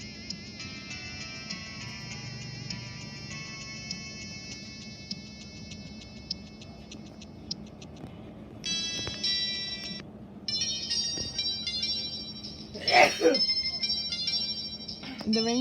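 A Samsung GT-E1150 mobile phone plays several of its built-in ringtones in turn, thin electronic melodies heard through a small speaker, fairly faint and close, with a few brief handling noises.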